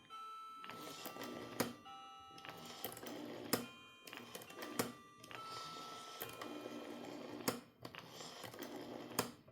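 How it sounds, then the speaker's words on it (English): A 1973 ATE Protea telephone dialing on its rotary mechanism, giving a quick series of mechanical clicks and whirring returns in several bursts, close and moderately quiet with no talking. "I will dial."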